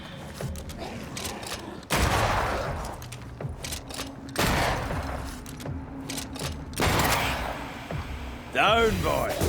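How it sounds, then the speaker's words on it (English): Bursts of gunfire from a corpse enemy in the video game Banishers: Ghosts of New Eden, three heavy volleys of rapid shots spaced a few seconds apart, loud and close, with a voice talking throughout. "That corpse is gonna shoot."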